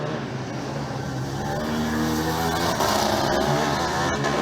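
Formula Student race car lapping a circuit during an endurance session, its engine roaring steadily and rising in pitch as it passes close by, loud and continuous with no talk.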